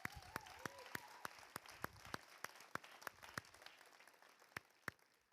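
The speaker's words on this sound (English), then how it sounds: "Let's give ourselves a round of applause." Scattered clapping at an all-college staff and student meeting: sharp, distinct individual claps in a quick uneven rhythm, fairly distant and quiet, with a faint voice early on.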